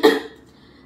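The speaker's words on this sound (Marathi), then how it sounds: "मुलांना आता कालपासून ते थंड पाणी पिऊन ना पुन्हा खोकल्याचा त्रास झाला असं वाटते" A child gives a single short, sharp cough close by, then quiet.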